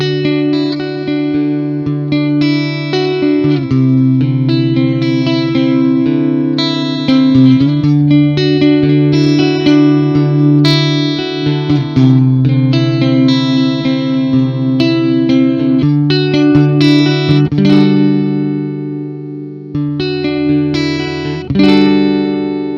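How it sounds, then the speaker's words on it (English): Epiphone Evolution Explorer E-Series electric guitar played loud and close, a string of sustained chords and picked notes with distorted tone, ringing continuously with brief pauses. "Let's go ahead, plug it in and try to get some sort of a tone demo."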